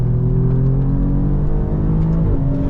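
A 2024 Alfa Romeo Giulia Quadrifoglio's 2.9-liter Ferrari-derived V6 roars loud and close on a race track, holding a sustained high-revving drone, then dipping briefly as the pitch shifts near the end.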